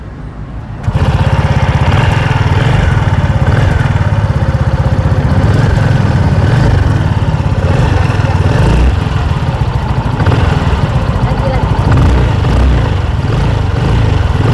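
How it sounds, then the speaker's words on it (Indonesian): A small 125 cc W-Moto Swift Bee motorcycle engine fires up after a short quiet moment, then idles with a loud, steady, throbbing putter close by. "sekarang kita coba nyalain W-Moto Swift Bee dengan mesin 125 cc"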